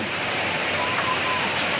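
Steady rain falls on an outdoor spot where animals graze on grass, a constant loud, hissing patter of drops with no break.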